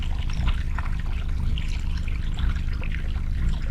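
Cold river water running over sand and small rocks, a close, steady trickling and gurgling with no pauses and no voices.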